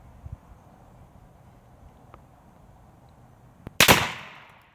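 A single loud, close shot from a .44 black powder revolver fired outdoors cracks sharply and rings off in a long decaying tail after a few seconds of quiet wind.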